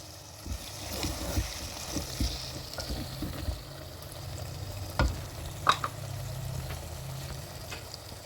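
Potato pieces frying in a pan while being stirred, a soft continuous sizzle broken by scattered scrapes and clicks of the utensil against the pan.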